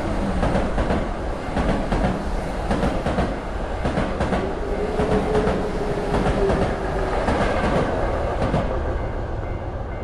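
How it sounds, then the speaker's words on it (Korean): A train rumbles past in a horror video game set at a level crossing, with steady, loud rolling wheels and clattering carriages throughout, and a faint squeal midway. "저승열차."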